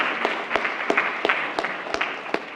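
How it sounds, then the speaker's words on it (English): Steady audience applause at a graduation-week talk on home energy-efficiency upgrades, a dense even wash of clapping with a few sharper, louder claps standing out throughout. "How about a round of applause for yourself?"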